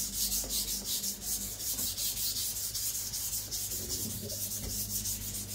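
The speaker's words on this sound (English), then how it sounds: "It's important when you first sharpen to get a thin knife." A Zwilling Five Star chef knife is ground on a sharpening stone, producing close, rhythmic gritty scraping strokes that rise and fall in quick back-and-forth passes.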